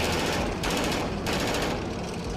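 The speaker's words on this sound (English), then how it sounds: "The Bushmaster cannon begins its attack." A Bradley's Bushmaster cannon fires in rapid bursts, a dense, loud rattling stream of shots broken into a few clustered volleys over a couple of seconds.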